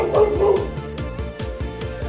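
A Shiba Inu dog barks and growls close by in a quick run of sharp, repeated barks across the whole clip, with no talk over it.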